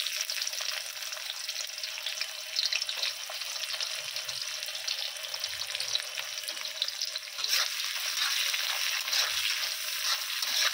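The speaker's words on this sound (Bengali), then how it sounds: "পেঁয়াজটাকেও আমি গোল্ডেন করে ভালো করে ভেজে নেব" Chopped onions fry in hot oil with garam masala, a dense, steady sizzle that runs the whole time with faint stirring beneath, close and even.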